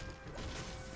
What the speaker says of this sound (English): you can smash cars to get metal